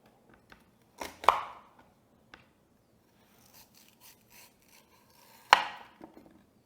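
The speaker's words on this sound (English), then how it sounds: "dicing my rhubarb nice" A knife dices rhubarb on a cutting board: a few sharp, separated chops and light taps, close and dry, with quiet handling between strokes and no talk.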